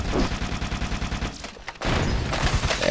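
Rapid gunfire and explosions in the Halo CE video game, loud sustained bursts of shooting that cut out briefly before resuming, with no speech.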